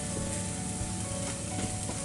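Liquid sauce mixture sizzles steadily in a Ninja Foodi while crispy shredded beef cooks, a dense continuous hiss with faint stirring underneath, close and even throughout.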